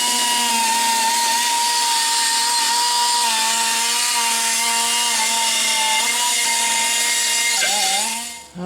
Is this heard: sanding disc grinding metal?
yes